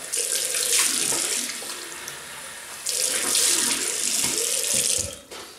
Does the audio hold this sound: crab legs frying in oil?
no